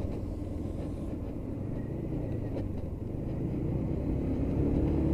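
A Lexmoto Titan 125cc motorcycle rides through traffic, its engine giving a steady, loud low rumble that holds throughout with slight swells, mixed with road and wind noise.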